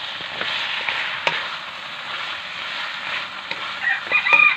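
Pork ribs frying in a pan with tomatoes give a steady, close sizzle with a few sharp crackles and light stirring clatter near the end, and no voices.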